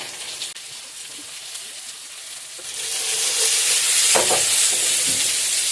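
Spice paste of ground garlic and tomato frying over high heat in a pan for a katla fish curry, a quiet stretch giving way to a loud, steady sizzle with scraping stirs, no talk.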